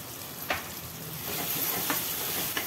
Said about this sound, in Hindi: मिलाएंगे फ्राई करेंगे थोड़ा तेल सूखने तक